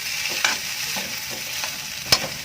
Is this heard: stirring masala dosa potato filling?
yes